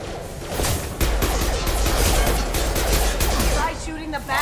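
Dense, continuous gunfire from a Mass Effect 2 firefight, loud and rapid bursts overlapping with combat noise for several seconds, with character voices calling out amid the shooting.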